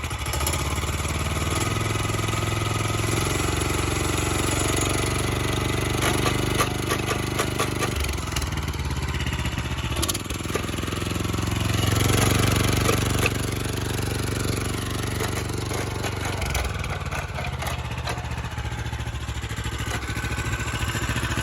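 Custom-built quad's engine runs steadily at close range with a broad, rough drone, swelling briefly as throttle is applied midway, with rattling mechanical noise throughout and no talk.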